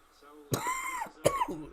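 Two harsh, separate coughs from a man suffering a lingering cough, close to the microphone, with a brief pause between them and a faint murmur at the start.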